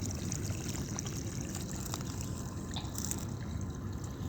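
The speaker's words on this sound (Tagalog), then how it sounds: "pinapaagusan ko ng tubig yan" Faint, continuous trickling of water runs steadily outdoors onto melon plants, a soft liquid flow with no talking.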